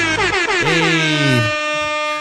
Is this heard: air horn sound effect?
yes